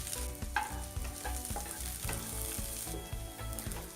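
Chopped small onions sizzle and crackle in hot oil with curry leaves for egg curry, with steady frying and occasional stirring scrapes, close and continuous.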